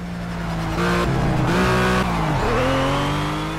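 Ruf RT 12R drifting at full power in Project Cars, a loud continuous engine roar with rising and falling revs and tire squeal as the car holds a slide through a corner.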